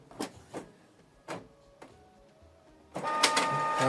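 A Canon Pixma MG3650 printer printing a network configuration page: a few separate mechanical clunks and whirs, then a louder continuous feeding and printing hum, close by with no talking.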